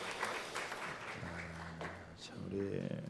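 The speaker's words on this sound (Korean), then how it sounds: "우리 박수로 감사함을 전하고 있습니다." A church congregation applauding during a Sunday service: a quiet, scattered patter of clapping in a large room, with a voice and a low hum coming in partway through.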